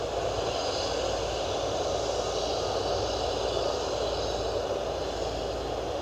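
An Eastern Boeing 777-200 jet at Cleveland Hopkins airport gives a steady, continuous engine roar with a broad rushing hiss, holding even loudness from moderate distance throughout with no voices.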